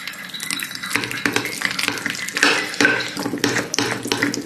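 Ingredients including molasses and a pinch of salt being mixed in a bowl, with a steady run of close scraping and stirring strokes and light clinks of a utensil against the bowl.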